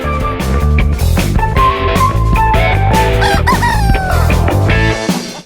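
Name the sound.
chickens clucking and rooster crowing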